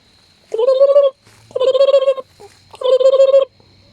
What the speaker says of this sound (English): tame turkeys, if you do that, will gobble.